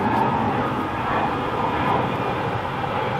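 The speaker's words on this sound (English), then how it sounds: "And listen to airplanes go by." Airplanes passing overhead outdoors in a garden while tomato starts are potted up, a steady, broad engine rumble and roar filling the whole span with no talking.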